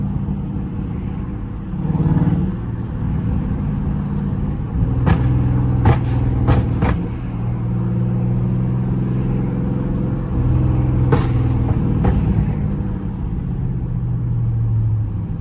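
A Dodge Charger Scat Pack rumbles through traffic with a deep steady exhaust drone, broken by a handful of sharp crackling pops in quick clusters, heard from inside the car.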